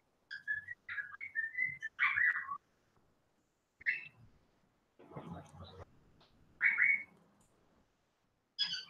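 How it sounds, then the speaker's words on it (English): A person whistles the tune Camptown Ladies in short melodic phrases with pauses between them, fairly close, alongside quiet brushing and handling noises. "he's got a rendition of Camp Town Ladies that he whistles too."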